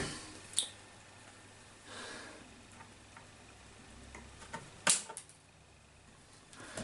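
Cutters snip off a piece of wire during repair work on a Casio DH100 keyboard. Two sharp, separate clicks sound several seconds apart over faint background noise.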